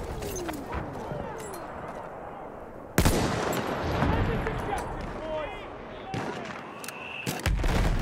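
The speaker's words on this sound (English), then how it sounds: "Enemy coordinates have been sent to our artillery." Battlefield 1 Rush match with artillery fire: a sharp heavy blast lands at the three-second mark, followed by rolling gunfire, crackling shots and further booms, with game voices speaking over the din.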